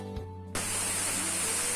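After a short stretch of a quiet humming kitchen, a pressure cooker of mushroom paneer curry abruptly lets out a loud, sustained hiss of escaping steam, close up.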